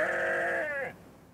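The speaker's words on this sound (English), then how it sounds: "Turns out I can't speak to sheep." A single sheep lets out one close, clear bleat lasting just under a second, wavering as it trails off into quiet outdoor air in a forest setting.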